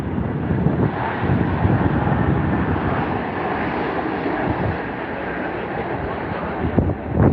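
An Etihad Airbus A380 touching down on runway 09 left at London Heathrow, a steady loud broadband jet roar of engines and airflow that holds throughout and swells slightly at the end.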